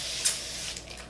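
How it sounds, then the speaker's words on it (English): A short hissing burst of Evian mineral water facial spray mist, one quick spritz followed by a faint fading tail, close and quiet. "spray it on. It's just a really fine mist."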